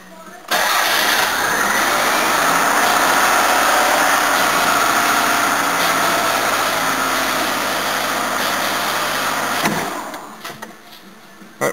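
Toyota Camry engine fired up and running, a steady loud mechanical idle with hiss and rattle holding for about nine seconds before the revs drop and fade out.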